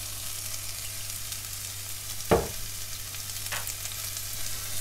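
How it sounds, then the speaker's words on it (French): Vegetables with duck frying in a pan with a little added oil for duck skewers, a steady close sizzle throughout with a couple of brief clinks or stirs, no talking. "on va en rajouter un tout petit peu pour faire colorer nos légumes"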